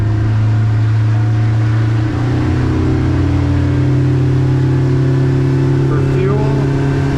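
Yamaha F115 outboard on a 2023 Stabicraft 1850 Super Cab at steady cruising speed, a loud continuous low engine drone with water and wind noise, holding even throughout.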